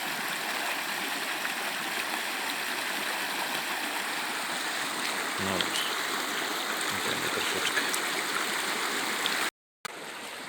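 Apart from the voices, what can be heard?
stream water rushing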